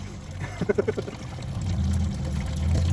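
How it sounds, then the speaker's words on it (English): Coolant drains from a Toyota 2UZ-FE 4.7-liter V8 into a bucket, starting with a few gurgling spurts and then settling into a steady, close pouring splash under low background noise. "Ooh, lots of coolant came out."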